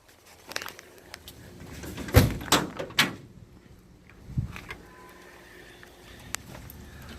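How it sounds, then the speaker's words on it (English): The hood of a 1969 Ford Mustang with a 351 Cleveland engine is opened, giving a few close metallic clunks and creaks in quick succession followed by a softer thud, in otherwise quiet surroundings. "Let's open up the hood."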